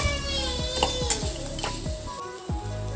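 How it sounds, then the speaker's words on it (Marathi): Onion and coconut roasting in a pan for amti masala. A close, steady sizzle mixes with repeated spatula scrapes and clinks against the pan. "मी आता कांदा आणि खोबरं भाजायला टाकलं आहे."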